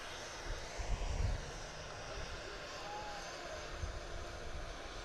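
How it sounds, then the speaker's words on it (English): An Airbus A321 airliner at Manchester Airport passes with a low, steady engine roar, swelling briefly near the start and holding as a distant, continuous rumble throughout. "Lovely, long A321 there."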